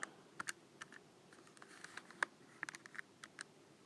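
A radians-to-degrees calculation is tapped in on a keyboard, faint irregular key clicks and taps scattered over a few seconds with no speech.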